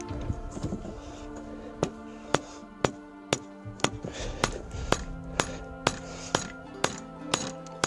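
A hammer strikes hot iron repeatedly in a steady rhythm while forging nail heads, about a dozen sharp ringing blows close by, with no talking.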